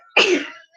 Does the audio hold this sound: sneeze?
yes